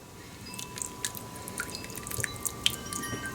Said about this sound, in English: I'm going to pour some of this honey sesame